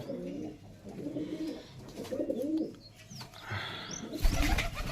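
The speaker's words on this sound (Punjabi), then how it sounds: "ਆ ਕਬੂਤਰੀ ਸੀ ਲਾਲ ਪੱਲੇ ਵਾਲੀ" Soft, repeated pigeon coos in a few rounded bursts, close by, with a brief louder rustle or flutter near the end.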